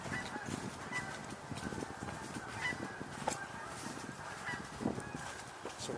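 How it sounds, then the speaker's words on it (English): Canada geese circling back outdoors among fallen leaves: repeated honks from a flock, faint and distant, scattered irregularly across several seconds over soft background noise, with no voices. "So we're still hearing those Canada geese"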